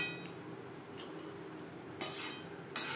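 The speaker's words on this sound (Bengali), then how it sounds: "গ্রেভির সাথে মাছ ও মাছের মাথা বেশ ভালো করে মিক্স করে দেব।" Katla fish and fish head being stirred into gravy in a pan, a spoon scraping and clinking against the metal with a few sharper knocks near the end, soft and close with no talking.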